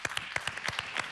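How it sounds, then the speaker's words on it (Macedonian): Audience applause at a televised singing competition finale, heard as a short burst of sharp, evenly spaced claps, fairly close and alone. "И ова е нашиот аплауз за вас."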